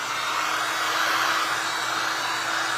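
A heat tool blows steadily to dry paint on a painted paintbrush in a mixed media craft project, giving a constant loud close whooshing hum with no talk.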